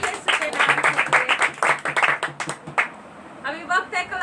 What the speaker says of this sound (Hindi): जोरदार तालियां यीशु के नाम से।